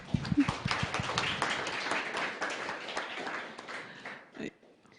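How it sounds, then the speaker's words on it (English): A short burst of audience clapping at a conference presentation that fades away over a few seconds, with a voice briefly audible. "Round of applause, please."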